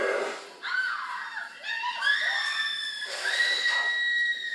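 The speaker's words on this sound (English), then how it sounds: "honestly, I love her screams" A woman's high, drawn-out screams from the film Indiana Jones and the Temple of Doom, several shrill wavering cries rising and falling over about four seconds, loud and close with no talking.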